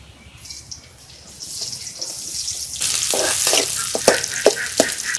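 Chopped onion sizzles in hot oil in a karai on a stove, a steady frying hiss that grows louder midway, with sharp stirring scrapes and pops near the end and no talk.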